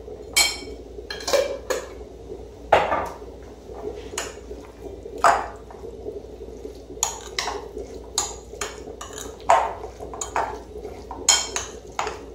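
A spoon scrapes and clinks against a bowl as Russian salad of potatoes and vegetables is stirred together with mayonnaise, giving repeated sharp metallic taps and soft squelching strokes in an uneven rhythm, close up with no talking.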